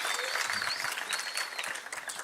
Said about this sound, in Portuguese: uma salva de palmas para vocês aí